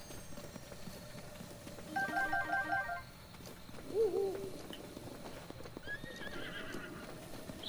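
A horse in Zelda: Breath of the Wild trots with steady hoof clops, gives a short whinny midway, and game chimes ring over quiet outdoor ambience.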